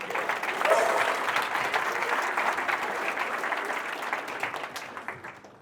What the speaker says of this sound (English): I'm going to give an applause for Gunnar.